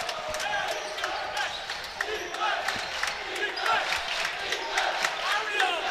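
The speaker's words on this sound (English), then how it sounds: "MTA crowd all on their feet. They'll stand throughout the game, chanting defense" A basketball crowd on its feet at an MTA Lions game chanting defense, a loud rhythmic roar of many voices echoing through the gym, punctuated by sharp ball bounces and squeaks.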